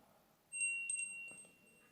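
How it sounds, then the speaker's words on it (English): OnePlus Nord Buds earbuds in find mode emit a faint high-pitched electronic tone, a few short beeps then a sustained whine over quiet background. "tap on it, it start producing high frequency sounds like this."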